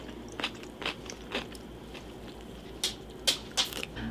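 Pickles are bitten and chewed close up, giving a series of quiet, crisp crunches, some spaced apart and a few in quicker succession, over a soft background hum.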